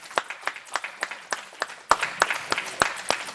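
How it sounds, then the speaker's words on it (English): Applause for panel members at a college human services panel presentation, starting as a few scattered claps and then swelling into steadier clapping from a small audience, fairly close. "Let's give each of our panel members a round of applause."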